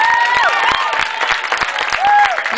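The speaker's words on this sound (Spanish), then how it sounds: "¡Aplauso, aplauso!" A crowd applauds outdoors during a visit to an earthquake-affected area in Costa Rica, dense clapping mixed with cheers and whistles, loud and continuous throughout.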